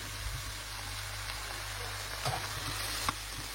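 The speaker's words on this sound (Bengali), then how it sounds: "দিয়ে দিলাম টমেটো কুচি, এবার বেগুনটাও দিয়ে দিচ্ছি।" Chopped tomato and eggplant frying in a pan, a steady close sizzle throughout with a couple of faint stirring scrapes.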